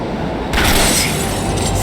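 A tram pulls into a station in Max Payne 3. A loud, rushing mechanical roar bursts in suddenly and then carries on as a dense, steady wash of noise.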